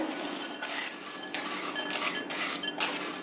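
A spoon scrapes and clatters against a metal pan while avarekalu snack is stirred and mixed with salt and chili, with continuous rhythmic scraping and no talking.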